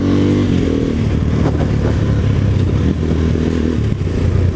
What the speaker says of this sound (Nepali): बाइकको साउन्ड चाहिँ लास्टै ठुलो रहेछ।